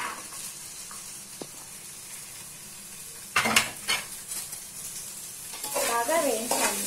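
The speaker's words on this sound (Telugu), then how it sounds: "నూనె వేసి ఆ పాత్రలో నూనె వేసి ముందుగా మనం కట్ చేసి పెట్టుకున్న బెండకాయ ముక్కలను వేసి" Okra pieces dropped into hot oil in a pan for fried rice: a faint hiss at first, then a sudden louder crackle and clatter of utensils as the sizzling builds toward the end, close by.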